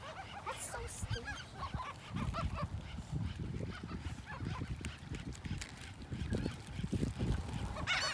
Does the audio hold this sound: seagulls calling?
yes